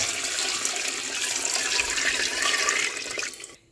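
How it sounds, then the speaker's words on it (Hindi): Chicken yakhni broth pours into a pot of pulao, a steady close splashing gush that trails off abruptly near the end. "अब मैं इसमें यखनी जो हमने बनाई थी वो ऐड कर दूंगी"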